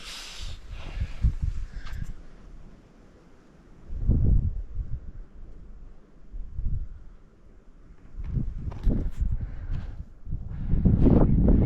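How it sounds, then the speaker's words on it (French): Wind gusts buffet the microphone high on Mount Taranaki, with rumbling surges that rise and fall over several seconds, loud and close, with no one speaking. "Le vent est pas chaud."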